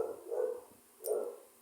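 Dogs bark indoors in two short, muffled barks about a second apart, faint and distant, with nothing else heard.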